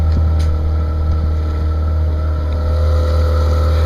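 A sailboat motors under engine power across dead-calm Lake Erie, with a steady, loud low drone and a continuous hum that stays constant throughout, plus light wind noise on the microphone.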